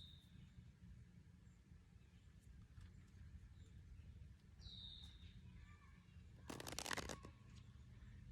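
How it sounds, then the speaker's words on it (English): A card is pulled from a deck outdoors with a brief, crisp riffle and snap near the end, heard close against quiet background hum and a few distant bird chirps. "I haven't pulled a card here before"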